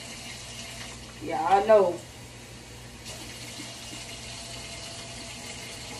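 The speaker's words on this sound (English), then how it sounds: "So I always have to rinse off my own shrimp before I start cooking." Tap water running into a kitchen sink as raw shrimp are rinsed before cooking, a steady soft hiss with a brief louder splash, a voice speaking briefly.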